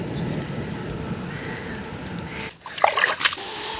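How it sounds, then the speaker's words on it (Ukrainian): Steady rain hisses across the whole clip, with a few sharper splashes and drips close by near the end. "у нас іде дощ"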